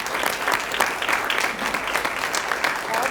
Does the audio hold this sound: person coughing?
no